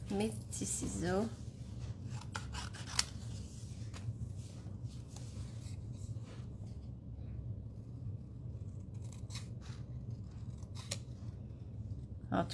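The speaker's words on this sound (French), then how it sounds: "il va falloir que je les découpe au ciseau" Small scissors snip design paper in a quiet room, a few crisp short cuts spaced irregularly, close but faint, after a brief burst of voice at the start.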